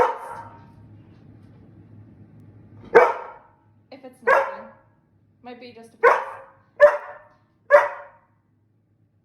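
A pregnant Sheprador barks in single sharp woofs at a steady pace, about six barks with pauses between, fairly close, after a brief spoken remark.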